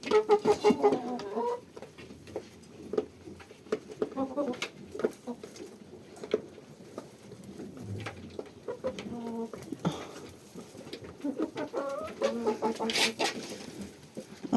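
Two roosters and chickens cluck and murmur intermittently at close range, with scattered short calls and some background shuffling.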